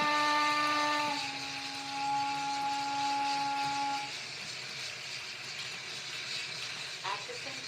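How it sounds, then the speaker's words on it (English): Original six-chime steam whistle of the Atchison, Topeka and Santa Fe railway, one long chord holding steady with a quick shift near the start, then cutting off and leaving background noise and faint talk. "Atchison Topeka and Santa Fe original 6 chime"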